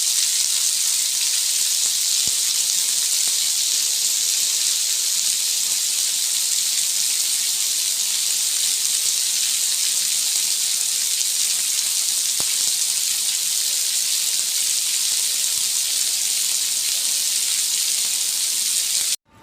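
A sudden heavy downpour in the Philippines pours down in a constant, loud hiss that stays dense and unbroken for the whole stretch.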